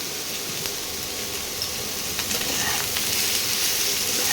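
Cauliflower and potato fry with salt and turmeric in a pan, giving a dense, steady sizzle under a few soft stirring scrapes. The sound holds at an even, close level throughout.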